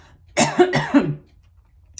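Two or three sharp, close coughs in quick succession, followed by quiet.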